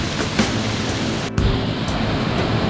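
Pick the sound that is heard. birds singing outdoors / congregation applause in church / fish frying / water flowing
water flowing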